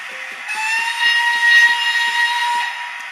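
A model train's small steam whistle blows one sustained, shrill note for a few seconds over rhythmic chuffing clicks.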